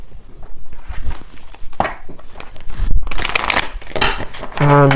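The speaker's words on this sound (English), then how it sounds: "So let me grab a few oracle cards here." Oracle cards being shuffled by hand in a tarot reading, giving repeated soft papery riffles and slides in uneven bursts, close and clear, with no talking.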